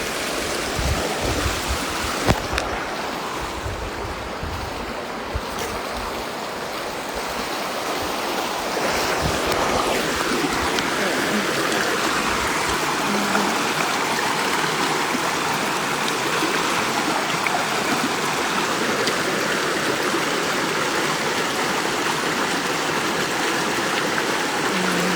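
Steady, full rush of a waterfall flowing close by, continuous broadband water noise with some wind buffeting the microphone, no voices.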